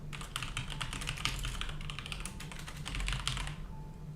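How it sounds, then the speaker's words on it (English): Fast, steady typing on a computer keyboard during an ASMR stream, a quiet run of close, crisp key clicks that stops just before the end. "It's going to be a typing ASMR stream."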